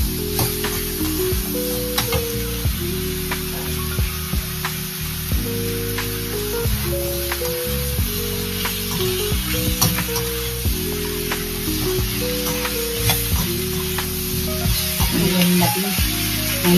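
Vegetables (drumstick, carrot, brinjal) sauté in a pan for sambar, giving a steady close sizzle with light stirring throughout, while a melodic tune plays underneath.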